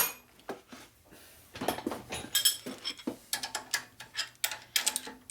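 A ratchet wrench cranked on a custom rigid bobber chopper motorcycle during a rebuild, heard as quick irregular metallic clicks and clanks, close and fairly faint, with no talk.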